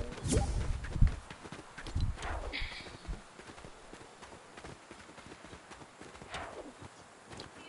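Hooves of a donkey in a video game, clopping loudly at first in a quick uneven gait and then fading to faint steps, with a voice speaking briefly.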